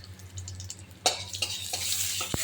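Cumin and radhuni seeds crackle in hot oil as a spoon stirs them, with soft scraping at first, then a sharp burst of sizzle and a few clinks of the utensil against the pan before a final knock.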